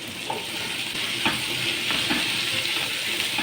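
Hot peppers hitting a pan with garlic set up a steady, close sizzle that holds evenly throughout, broken by a couple of faint scrapes or clinks.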